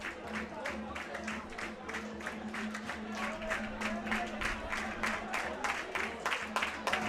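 Stadium crowd at the Zambia v Sudan African Nations Cup final football match in Perth, a continuous murmur of the crowd beneath a commentator talking throughout.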